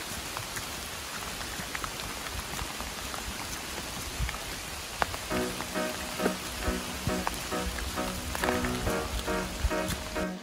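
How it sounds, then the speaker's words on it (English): Steady rain falls on an Appalachian Trail thru-hike, a dense continuous patter close around with scattered louder drops hitting nearby surfaces. "Let's listen to the sounds of the rain today."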